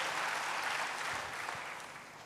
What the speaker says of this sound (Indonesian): Berikan sekali lagi tepuk tangan bagi Tuhan.